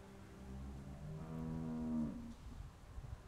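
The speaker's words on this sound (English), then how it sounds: "How do you like that cow, Clint?" A cow moos once in The Walking Dead video game, a drawn-out, fairly faint low call rising and falling over a quiet ambient backdrop, with no talking.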